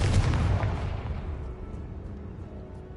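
A Confringo spell explosion in Hogwarts Legacy, a loud, heavy boom that opens the clip and rumbles away over a few seconds, with no voices.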